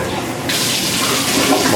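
An RV toilet flushes after de-winterization, a steady loud rush of water that suddenly swells in volume partway through and keeps running, close up with no talking.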